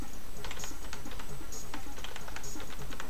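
Computer keyboard keys clatter in a steady rapid patter while someone plays the MS-DOS shooter Descent, close and continuous, with no speech.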